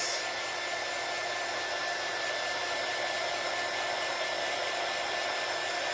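A hair dryer blows continuously and loudly up close to dry a coat of paint, a steady whooshing roar with no break.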